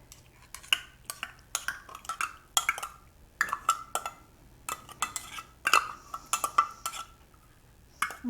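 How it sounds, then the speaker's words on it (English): Utensils clinking against a mixing bowl as mild green chilies are added to cornbread batter, a steady run of close, bright taps and scrapes with short pauses between them. "So I'm going to put in my green chilies."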